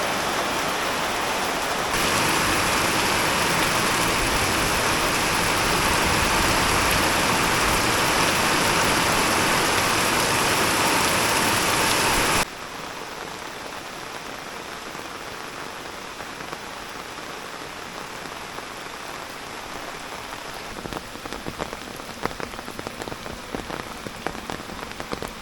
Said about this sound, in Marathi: खूप जास्त पाऊस पडतोय।